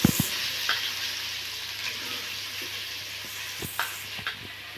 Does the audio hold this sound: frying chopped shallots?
yes